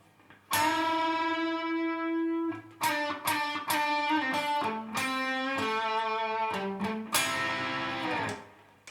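A clean electric guitar lick: a few sustained notes with bends, then quicker picked phrases, ending on a ringing double-stop, played alone.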